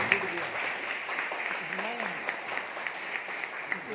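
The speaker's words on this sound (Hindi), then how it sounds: "एक बार जोरदार ताली होना चाहिए।" Applause from a crowd rises under a voice, a continuous patter of clapping with someone talking over it.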